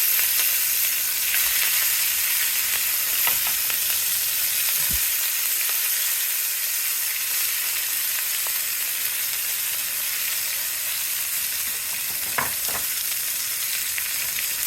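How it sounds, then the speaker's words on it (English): Garden-grown red amaranth sautés with curry in a pan, a steady close sizzle with occasional stirring scrapes and no talk. "I got some red amaranth from my garden. I'm gonna saute this for side dish."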